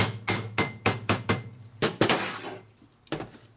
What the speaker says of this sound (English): You can hit on it with a plastic hammer.